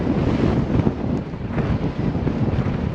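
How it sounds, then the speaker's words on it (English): Strong crosswind roars steadily across the microphone of a cyclist riding the Mawson Trail in South Australia near Moralana Scenic Drive at about 14 to 15 km/h, a loud, continuous rumbling buffet with gusty swells and no voices. "Vicious crosswind."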